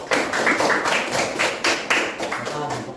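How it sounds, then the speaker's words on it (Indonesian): A classroom group claps for a presenting group of students, a brief burst of irregular hand claps with a voice briefly over it. "kita tepuk tangan dulu buat kelompok 2"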